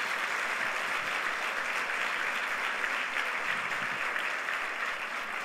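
Steady applause from a church congregation during a pastors' anointing service, dense and sustained at an even level, with no voice over it.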